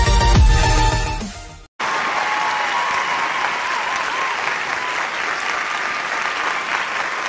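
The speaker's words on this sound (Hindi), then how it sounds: "एक बार जोर से तालियां हो जाए" An audience at a ventriloquist show applauds loudly and steadily for several seconds after a brief pause, the clapping dense and sustained without speech.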